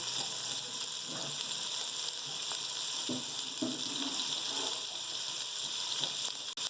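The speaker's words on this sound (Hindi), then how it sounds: "इसी तरह वक्त वक्त में पानी डालते जाएंगे और भूनते जाएंगे" Nihari spices with turmeric sizzle steadily in hot oil with water added, a continuous close frying hiss with a few soft stirring knocks and no talking.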